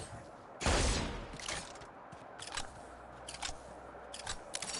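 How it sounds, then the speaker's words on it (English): Gunfire from a video game weapon, one loud close shot followed by several quieter scattered shots at irregular intervals. "Let me shoot all the ammo in you."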